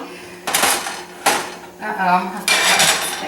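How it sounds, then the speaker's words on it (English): A spatula scrapes across a hot pan, lifting out low-carb keto dressing stuffing in a few bursts of metallic scraping and clattering, close and fairly loud with short pauses between strokes. "let me get my spatula out here and see if I can get a pretty piece"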